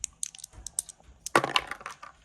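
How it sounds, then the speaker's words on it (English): Precision backgammon dice thrown onto the cork surface of a Lowe or Cardinal board with undamped bumpers, several light clicks followed by a louder close clatter as they tumble and settle. "it's your standard sound of precision dice hitting cork"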